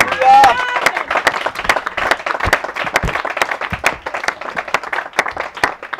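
A church congregation applauds with dense, steady clapping that fills the space, and a short vocal cheer rises at the start.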